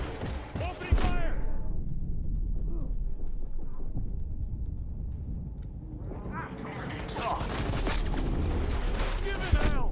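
Police gunfire in the video game Cyberpunk 2077, heavy bursts of shots and booms at the start and end with a muffled, filtered lull between, game voices shouting amid the fire.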